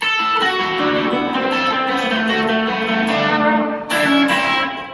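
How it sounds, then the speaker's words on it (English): A sustained run of electric guitar notes played with effects, bright and continuous, with a sharp new attack near the end. "It served as inspiration for me to come up with another lick that sounds like this."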